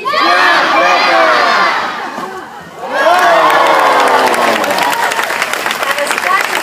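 A zoo crowd at a seal show shouts together in a loud burst of cheering and yelling, children's voices prominent, then a second wave of whoops and applause after a brief lull.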